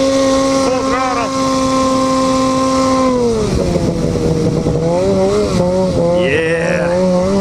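A snowmobile fitted with a new GGB Trail Can exhaust is held at full throttle. The engine note is loud and close, with a steady high drone that sweeps downward and then wavers, and it plays throughout with no talk over it.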